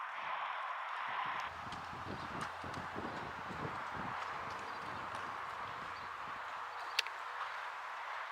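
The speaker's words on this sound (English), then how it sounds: "Look at this lovely relaxed horse." Hooves of a relaxed horse clip-clop at a steady walking rhythm, close and fairly loud, with soft rustling in the background and a brief sharp click near the end.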